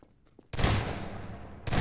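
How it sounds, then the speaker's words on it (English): Rapid gunfire bursts from a Garry's Mod Prop Hunt match ring out loud and dense after a short quiet start, sustained for over a second before a fresh burst hits. "I just hear like gunshots."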